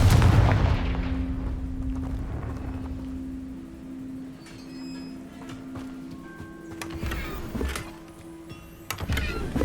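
A Confringo spell cast in the Hogwarts Legacy game, opening with a loud explosive boom that fades into a lingering hum, followed by scattered clicks and sharp magical zaps.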